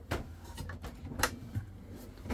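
Kitchen drawers beneath the three-burner hob in a Hymer B-class motorhome slide open and shut, a few short knocks and thuds spaced unevenly, close by.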